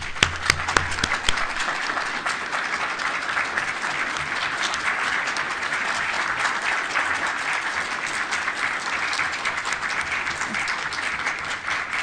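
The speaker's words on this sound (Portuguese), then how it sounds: "peço uma salva de palmas" An audience at a Central Bank president's press conference breaks into sustained applause, dense and even clapping lasting the full span with no voices over it.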